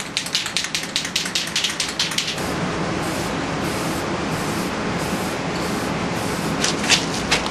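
Spray painting a second coat onto an Aerospoke wheel: quick hissing spurts at first, then a steady, close, unbroken spray hiss that continues to the end with a few brief swells.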